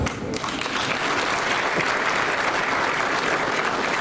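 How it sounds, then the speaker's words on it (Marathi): An audience at a public felicitation ceremony claps in dense, sustained applause that stays loud and even for the whole stretch, with no voices standing out. "तुमच्या टाळ्या वाजल्या ना"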